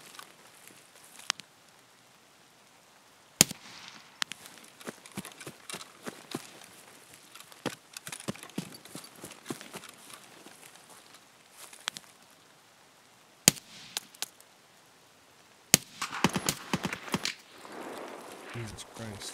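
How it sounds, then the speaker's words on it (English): Gunshots in Escape From Tarkov ring out as sparse, sharp cracks spread across a quiet stretch, then bunch into a rapid cluster of shots near the end, some close and loud, others fainter. "He's trying to shoot me through it, man."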